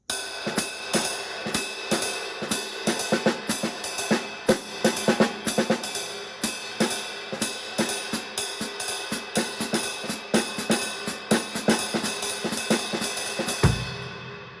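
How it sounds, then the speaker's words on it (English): A drum kit plays a swinging groove with a sixteenth-note feel underneath, busy, dense hits and cymbal wash, a steady driving pulse running throughout, loud and close. "I might start feeling more of a 16th note feel underneath."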